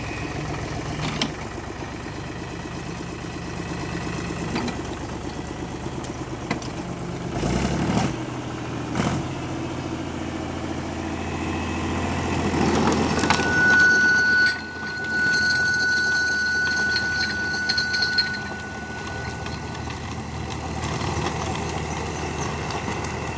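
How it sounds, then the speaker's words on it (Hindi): A Mahindra 265 DI tractor pulling a 2-meter Fieldking rotavator through tight soil gives a steady mid-pitched engine drone with a constant churning rumble, swelling briefly at times, with no voices. "2 मीटर का रोटावेटर चला जाएगा।"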